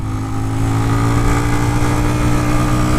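Mondial X-treme Maxx 200 motorcycle on asphalt tires, its engine droning steadily and loudly close by with a strong low exhaust rumble and sustained revving throughout, no speech.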